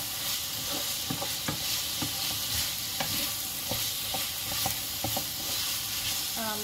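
Bitter gourd and prawns stir-fried in sambal sizzle steadily in a hot pan while a spatula scrapes and taps through it at an irregular rhythm, close and alone.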